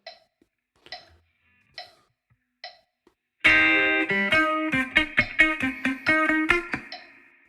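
Electric guitar plays a bar of a song: four faint muted ticks, then a run of bright, close plucked notes in a quick syncopated rhythm that rings out at the end.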